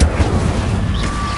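Incendio fire spell cast in Hogwarts Legacy on hard difficulty, a loud burst of fiery, rumbling low-end whoosh that stays dense and roaring through the short moment, with no voices over it.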